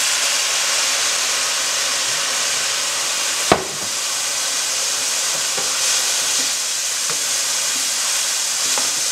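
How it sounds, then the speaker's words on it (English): White wine, about half a cup, poured into a hot pan of risotto rice, giving a steady bright sizzle and hiss that runs throughout, with one sharp knock near the start and faint scrapes of stirring. "The first liquid we're going to add in is some white wine, about ½ cup"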